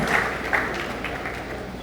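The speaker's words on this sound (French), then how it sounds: "Merci de les applaudir." A seated audience at a talk on effective communication applauds two volunteers, a short, moderately loud patter of clapping with a couple of sharper claps near the start.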